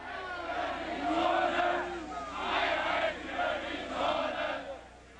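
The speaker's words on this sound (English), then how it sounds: "Crowds gather on the west side to taunt the East German soldiers as they build the wall." A crowd in West Berlin jeers and shouts in swelling waves at East German soldiers building the Berlin Wall, voices rising and falling in bursts with no clear single speaker.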